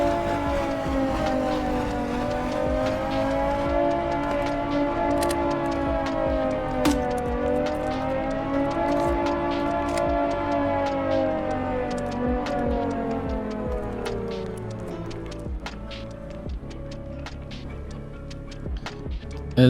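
A boat's siren wails in the Stormworks video game, a loud sustained tone that slowly rises and falls. Patter like rain and faint ticking sound underneath, and the siren fades out toward the end.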